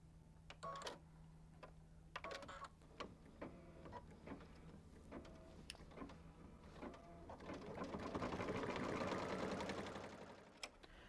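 A Kimberbell embroidery sewing machine stitches a quilt block, ticking in a steady rapid mechanical rhythm close by, then rising into a denser whirring run before stopping; no talking.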